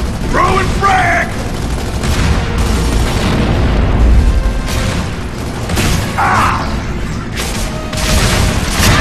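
A frag grenade blast in a Gears of War shooter lands as a loud boom amid dense gunfire and battle noise, with game voices shouting over the chaos.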